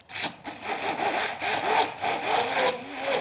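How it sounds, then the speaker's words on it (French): Immersion blender whirring steadily as it works 60 g of butter into a pain perdu mixture, a continuous close grinding buzz with slight rhythmic surges throughout. "Et là, au mixeur plongeur, tout simplement,"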